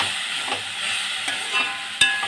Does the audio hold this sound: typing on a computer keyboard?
no